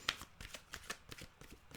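Cards shuffled by hand during a card reading, a quiet run of rhythmic riffling bursts repeating every few tenths of a second, close and alone.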